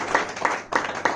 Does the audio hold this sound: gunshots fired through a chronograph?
no